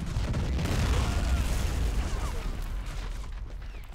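Artillery fires during a battle at a 1709 Russian forest outpost in the Corsairs Magic Storm game mod, with rumbling booms and muffled explosions at a moderate distance, heaviest early and then fading into a low battlefield rumble.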